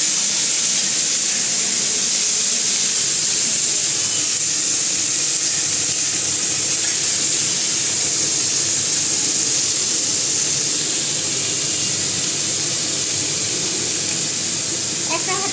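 Beans, carrot, capsicum, peas and cauliflower fry in ghee in a home kitchen, giving a continuous, even sizzling hiss that holds steady throughout.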